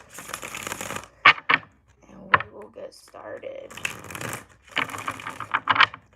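Several quick crisp riffling bursts of tarot cards being shuffled, interspersed with a person talking.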